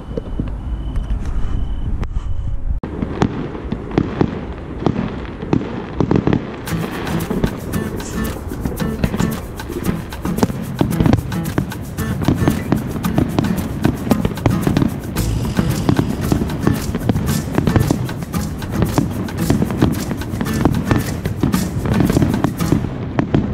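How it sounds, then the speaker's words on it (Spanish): Fireworks at the Virgen de San Lorenzo fair in Valladolid go off in a long barrage of rapid, dense bangs and crackles. The noise stays loud and continuous, and voices in the crowd can be heard faintly underneath. "van a comenzar los fuegos artificiales"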